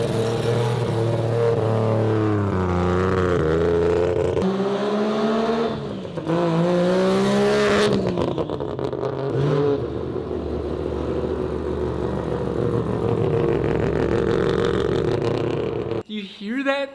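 A three-rotor rotary engine revs loud and close, rising and falling in pitch through long, rowdy throttle pulls before cutting off abruptly near the end.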